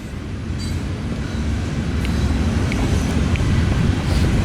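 A Union Pacific coal train, likely led by an SD70ACE locomotive, rolls past in College Station, Texas, with a steady heavy rumble and rail clatter that slowly builds in loudness throughout.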